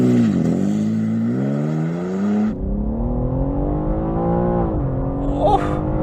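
New BMW M3 launching in second gear and accelerating hard, its engine note climbing steadily through the revs, a gear change, then a continued loud rising pull with a faint squeal near the end.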